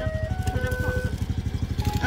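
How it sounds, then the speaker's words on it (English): An ice cream vendor's motorbike in Borneo passes close by with a steady, throbbing engine putter, while its jingle plays in sustained tones and a person talks over it. "This is ice cream car."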